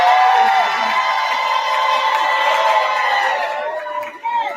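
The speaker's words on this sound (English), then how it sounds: "I got to have y'all give a nice round of applause for Brother Kaba." A museum event audience cheers loudly and steadily, with whoops and shouts rising over a continuous crowd roar before it tapers off near the end.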